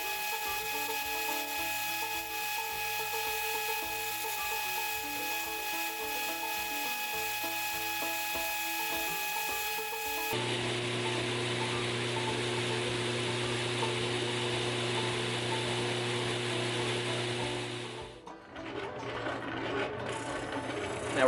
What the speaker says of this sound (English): I am using a 60 grit ceramic belt to do this.